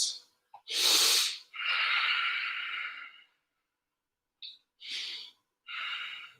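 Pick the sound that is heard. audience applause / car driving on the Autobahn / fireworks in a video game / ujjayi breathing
ujjayi breathing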